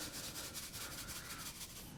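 Sugar and powdered ice cream stabilizer mixed quickly in a bowl for basil ice cream, giving a close, steady dry rubbing and scraping that runs through without a break.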